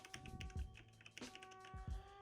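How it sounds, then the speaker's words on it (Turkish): Keys pressed on a GamePower Warlock Compact mechanical keyboard with red switches, a few close, crisp clacks spaced irregularly over steady background music. "Şimdi ben burada FN'ye basıyorum."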